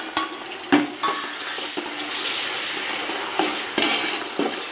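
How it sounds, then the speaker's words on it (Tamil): Tomatoes fry in a pan, a close, bright sizzle broken by sharp clicks and scrapes of a spoon stirring against the metal. "இந்த தக்காளி நல்லா ஃப்ரை ஆகும்."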